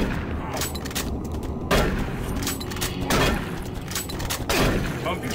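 Shotgun blasts in the video game Doom 3, booming at a steady pace roughly every second and a half over continuous game ambience, with a player talking over the action.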